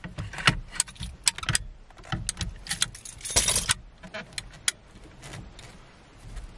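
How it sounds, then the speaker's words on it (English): A bunch of keys jangles and clinks close by while a Dodge Charger Scat Pack is being locked up, in irregular metallic bursts with a soft thud or two and a faint car hum beneath. "Need the key for this one."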